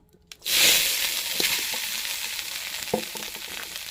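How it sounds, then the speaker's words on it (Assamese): Ghee hits a hot pan and bursts into a loud, close sizzle that holds steadily, with a few faint clinks of a utensil against the pan beneath the hiss. "এতিয়া ইয়াতে অকণমান ঘিউ দি ল'লোঁ মনোৰমা ঘিউ অলপ আছিলে ঘিউখিনি দি ল'লোঁ এতিয়া"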